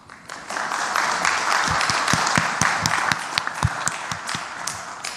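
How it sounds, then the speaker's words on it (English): Audience applause at a Democratic U.S. Senate candidates debate, a sustained burst of many hands clapping that swells quickly and holds steady, moderately loud, with a few sharper individual claps standing out. "you may applaud as each candidate is introduced"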